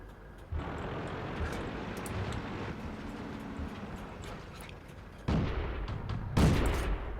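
Tank cannon fire in World of Tanks: a heavy boom opens a rumbling engine and battle din, followed by two more sharp, loud blasts near the end.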